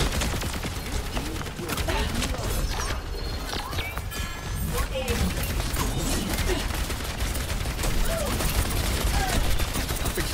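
Grenade launcher fire from the video game Overwatch 2 within a dense, continuous battle mix of shots and mechanical clatter, with a faint voice underneath.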